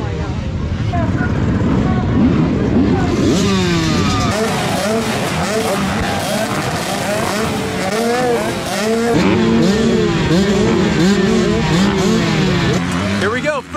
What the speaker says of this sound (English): first time racing a 125